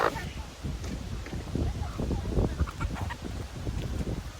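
Hens cluck and a rooster calls close by, short rough bursts repeating irregularly with a bit of background movement.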